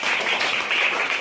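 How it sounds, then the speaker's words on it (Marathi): Children clapping loudly together for a seven-year-old student in a classroom, a dense steady patter of many hands throughout the short burst. "त्या सर्वांनी जोरदार टाळ्या वाजवा रे पार्थसाठी आपल्या"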